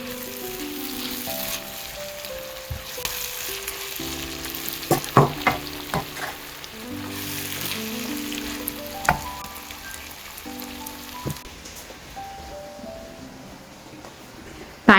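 Onions and tomatoes sautéing in a pan, a steady sizzle broken by sharp spoon scrapes and clatters, with background music tones running underneath.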